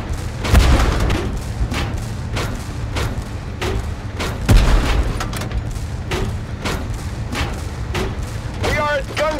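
Tank gunfire in Tank Force, two heavy booming cannon shots several seconds apart, each followed by a rumbling tail, amid a string of lighter impacts and battle noise.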